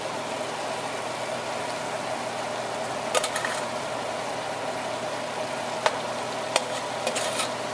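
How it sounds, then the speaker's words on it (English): Quinoa is stirred into a mix of protein and vegetables frying in a pan, giving a faint, steady sizzle broken by a few sharp scraping clicks of the utensil. "we're now going to add some of our quinoa to the mix."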